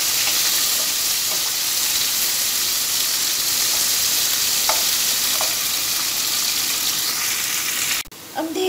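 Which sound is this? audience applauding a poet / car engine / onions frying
onions frying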